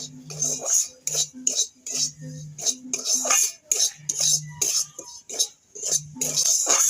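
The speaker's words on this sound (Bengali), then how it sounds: "সুজিটা এবার আমি ভেজে নেব" Semolina roasting in ghee in a pan, heard as a spoon scraping and clinking against the pan in repeated, close stirring strokes with short pauses between them.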